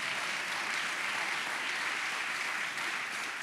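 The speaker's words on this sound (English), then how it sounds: "go ahead and give me applause" An audience at an honors convocation applauds, a dense, steady wash of clapping from many hands that holds at an even level for the whole few seconds.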